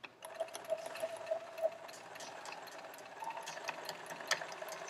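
Sewing machine stitching quilt piecing along a drawn line, a soft continuous hum with light rattling ticks, faint and steady throughout.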